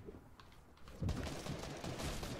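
Gunfire in a Fortnite Season 9 trio squad match, a dense rattle of distant-to-mid shots building into sustained rapid firing with game ambience, no speech over it.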